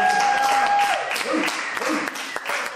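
A comedy club audience claps during a stand-up set, a loose burst of hand clapping that thins out and continues over a steady tone and some speech.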